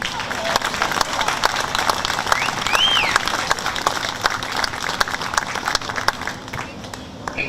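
A crowd at a youth baseball World Series elimination game applauds the umpires, a steady, moderately loud round of clapping from the stands.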